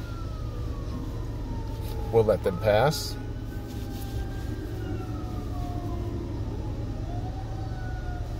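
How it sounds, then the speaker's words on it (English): A fire truck siren passes at a distance, a long wailing tone rising and falling over steady engine and road noise, with a person talking briefly partway through. "there's an ambulance or a fire truck. Oh, it's a fire truck."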